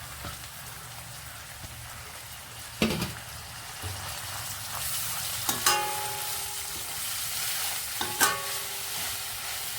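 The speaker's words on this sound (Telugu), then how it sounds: "ఇప్పుడు కొత్తిమీర వేసుకుందామండి" Coriander leaves sautéing in a pan for a fenugreek-and-coriander chutney, giving a soft steady sizzle broken by a few sharper stirring clicks and scrapes, with no talking.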